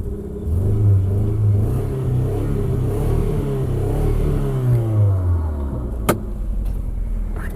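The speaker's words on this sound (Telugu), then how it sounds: "వెహికల్ ఇంజిన్ అయితే స్టార్ట్ చేశాను" A Hyundai i10 car engine revs up and down at close range, its drone rising and falling twice before settling, with a sharp click near the end.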